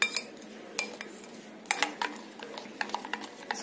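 Metal spoon clinking and scraping inside a bowl while mango pulp and sugar are stirred together for aamras, a few sharp clinks with soft wet stirring between them, close and clear, no talk.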